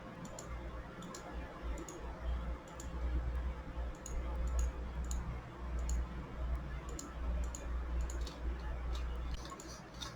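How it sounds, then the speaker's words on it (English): Computer mouse clicks during a software installation, a handful of sharp, light clicks spaced out over steady low room hum, close by with no talk. "We go, we click next,"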